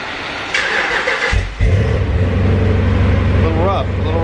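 A car engine cranks and catches at about 1.6 seconds, then settles into a steady, slightly rough idle with light revving while it warms up, running loud and close.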